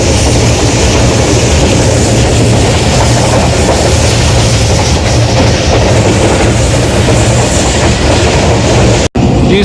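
Islamabad Express passenger train rolling along rails in Pakistan, a loud continuous rumble with clickety-clack of wheels heard from on board, steady throughout.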